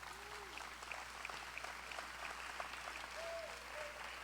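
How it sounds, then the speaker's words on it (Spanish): Congregation applause at a Spanish-language church service, a soft, steady patter of many hands that holds for several seconds, fairly faint and distant, with brief tonal sweeps and a low hum underneath. "Dense un aplauso."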